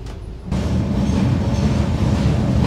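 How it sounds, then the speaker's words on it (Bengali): A passenger train rolls across the Bangabandhu bridge over the Jamuna river, a loud steady rumble of wheels and carriages that starts abruptly after a brief quieter moment and continues close by. "যমুনা নদী মানে ব্রহ্মপুত্র নদীর ওপরে বঙ্গবন্ধু সেতু, তার উপর দিয়ে ট্রেন যাচ্ছে এখন"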